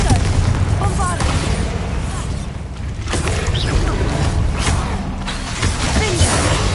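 Confringo and Bombarda explosion spells in Hogwarts Legacy go off amid a dense, busy game mix, with several muffled booms and crackling impacts layered over continuous rumbling background noise.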